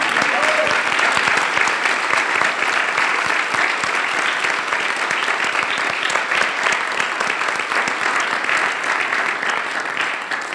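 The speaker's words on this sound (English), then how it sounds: "I think we need to give one more round of applause" Another round of applause rises from the audience at a spiritual retreat, loud, dense and sustained for about ten seconds, with a few cheers mixed into the clapping.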